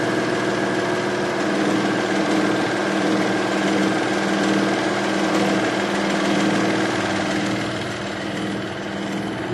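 A serger sewing machine stitching through fabric runs as a steady, close mechanical whir with an even buzzing hum that barely changes for the whole stretch.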